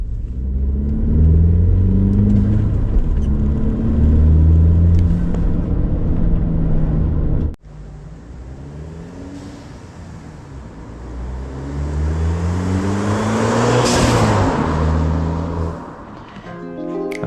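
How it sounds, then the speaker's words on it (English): A 2006 Audi A4 Quattro with its stock air intake drives by, its engine rumbling loud and close, fading briefly and then building again as it accelerates, with a whooshing rise near the end. "Now we're going to test drive my Audi with the stock air intake only."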